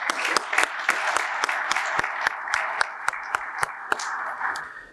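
Audience at a cooperative district meeting gives a round of applause, a full crowd clapping with several sharp, distinct nearby claps standing out over the rest before it fades out.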